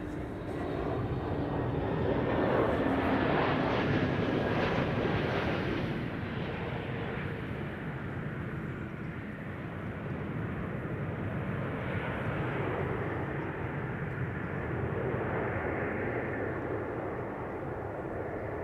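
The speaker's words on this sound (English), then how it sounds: "Next up, KLM flight 1602, arriving from Rome," A KLM Airbus A321neo airliner arriving from Rome at Amsterdam Schiphol passes with a broad, distant engine roar that swells early, eases, then lingers as a steady rumble.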